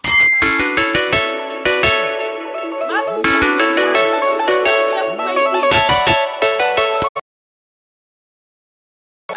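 A mobile phone ringtone plays a bright, chiming melodic tune of repeated bell-like notes for about seven seconds, loud and close, then cuts off into silence.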